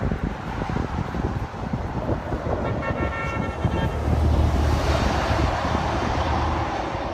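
Road traffic passing with a car horn tooting briefly in the middle, continuous vehicle rumble throughout, no talking.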